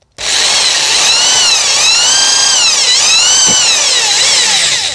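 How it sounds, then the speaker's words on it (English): A power drill bores into horn to set a golf club dowel, a loud, continuous high whine that wavers in pitch as the load shifts, running without pause close to the listener. "point of the drill on the black spot and drill in probably about a centimetre."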